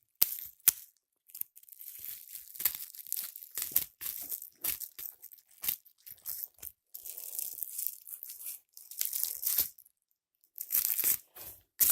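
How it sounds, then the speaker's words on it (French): Scissors cutting open a parcel holding a Magi artbook: a close, irregular series of crisp cardboard and plastic crunches, tears and crinkles separated by short pauses, with no talking. "Je vais essayer de couper ça comme je peux."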